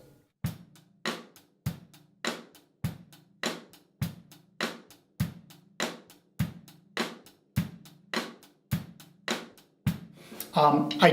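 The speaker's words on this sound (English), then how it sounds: "It's also possible to put the cross stick flam on beats 2 and 4." Drum groove with a cross stick flam landing on beats 2 and 4, evenly spaced sharp clicks over a soft steady pulse, close and clean, ending with a brief burst of cymbal wash.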